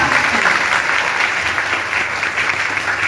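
A large audience at a political gathering breaks into loud, dense applause that holds steady and close for the whole stretch, with a faint murmur of the crowd underneath.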